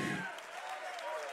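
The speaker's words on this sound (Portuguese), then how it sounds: "Oh, aplauda mais forte." A church congregation claps harder, a broad wash of applause that stays steady and fairly faint, with a singing voice and a sustained tone running under it.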